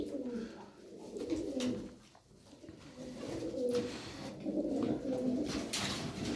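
Çorum çıplağı tumbler pigeons coo softly in repeated low, throaty phrases, several birds close by against a faint background hum.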